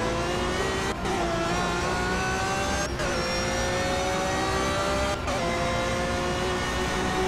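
A Renault Megane races in the Project Cars video game, its engine droning steadily and revving up through the gears with brief dips at each shift, loud and continuous with no talk.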